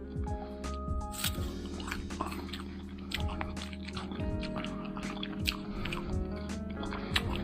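Close, wet bites and chewing of a juicy Taiwanese white-flesh guava, soft squishy crunches repeating steadily, with someone talking over the eating.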